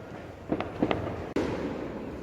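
New Year fireworks in Baguio, Philippines, a few muffled distant pops and one sharp crack over a steady background rumble.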